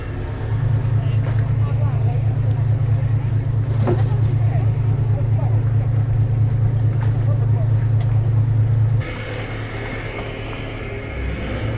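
Deep, steady engine drone of a Majesty 120 superyacht churning water while manoeuvring, holding strong for several seconds before easing off to a lower idle with splashing.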